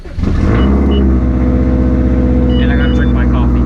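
A 500 wheel horsepower Subaru WRX engine cold-starts, cranking briefly then catching into a loud, steady high idle with a deep rumbling drone that holds close and unbroken.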